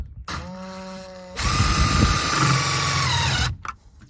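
A power drill whirs up briefly, then runs loud and strained for about two seconds as it drives a small screw while assembling a Lifetime vertical storage shed, stopping abruptly.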